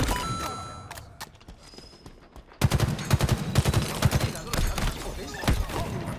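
Rapid bursts of gunfire crackle through a Halo Infinite capture-the-flag online match, starting sparse and faint before loud, dense volleys of shots take over, with a voice talking underneath.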